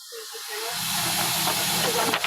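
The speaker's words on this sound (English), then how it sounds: "this steam is coming out of the vent" Steam hisses steadily from the vent of a pressure canner used for canning meat, a loud continuous rush that builds and holds, with small sputters near the end.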